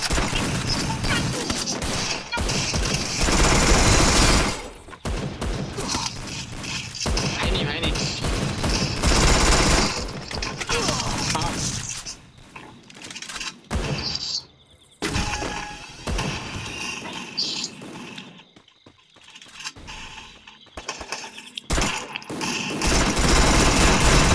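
Rapid gunfire from the video game Free Fire, loud sustained bursts with breaks and crashing impacts, under occasional voices.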